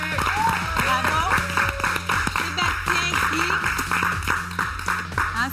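Studio audience on a Quebec reality show applauding Sébastien, dense sustained clapping under a steady bed of music or crowd noise, fairly loud throughout.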